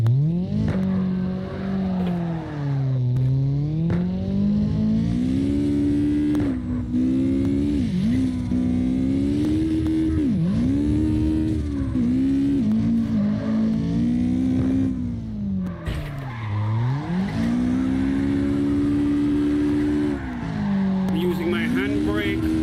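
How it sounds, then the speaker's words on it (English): Car drifting in the video game CarX Drift Racing Online, with the handbrake pulled to start slides; a loud engine rises and falls in pitch through repeated revs across the whole stretch. "Using my handbrake to make it slide sometimes."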